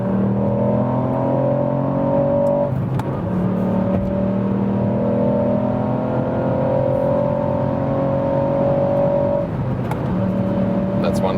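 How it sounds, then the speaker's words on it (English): A Ford Puma ST with a small-displacement three-cylinder engine accelerates hard from about 100 km/h. A loud, steady engine drone climbs in pitch through the gears with brief shift breaks, heard from inside the car. "And now once again acceleration when we are already at speed, going from about 100 kilometers to whatever."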